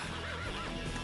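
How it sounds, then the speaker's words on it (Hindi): A horse whinnies close by in a drawn-out, wavering call with rising and falling pitch, heard alone with no talking. "क्या खूबसूरत घोड़ा है टॉम।"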